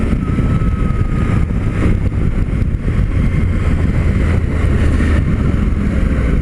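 A Suzuki V-Strom 800 motorcycle on a test ride downshifting with its quick shifter, steady loud engine drone with low rumble and brief shifts in pitch, close up, no talking.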